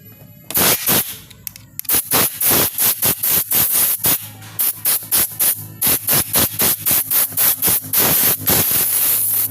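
Petrol is sprayed onto Honda Scoopy scooter parts in rapid repeated bursts, loud close hissing spurts in quick irregular pulses, some longer and some short, with no talking.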